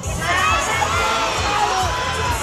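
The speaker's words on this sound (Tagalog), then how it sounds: "Wow, what a crowd we have here tonight!" A dense crowd at a nighttime street festival in Capiz, Philippines, cheers and shouts steadily, with children's high yells and whoops rising over a constant roar close by.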